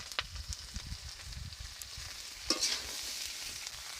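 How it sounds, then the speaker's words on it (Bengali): Snake gourd, potato and pumpkin flowers going into hot oil together, a faint sizzle with soft stirring scrapes and a brief louder crackle, quiet and close. "চিচিঙ্গে, আলু আর কুমড়ো ফুল কাটা দিয়ে দিচ্ছি, সব একসঙ্গে"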